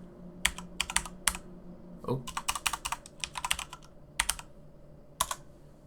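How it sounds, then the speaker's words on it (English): Someone types a short command on a computer keyboard, crisp close key clicks in quick bursts separated by short pauses, with a quiet room hum underneath. "we can go to command prompt. And we can type in ipconfig"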